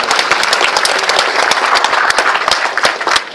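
An audience in a hall applauds loudly, a dense steady wash of many hands clapping close by that stays strong for the whole stretch.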